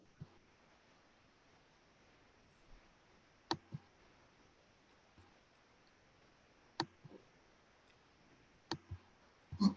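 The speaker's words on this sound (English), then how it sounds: "To click on the month?" A computer mouse clicks sparsely and faintly against a quiet hiss, with single clicks and a few quick doubles spread across the stretch, close and without speech.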